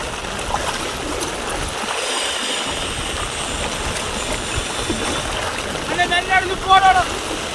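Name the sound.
floodwater flowing along street during Cyclone Fengal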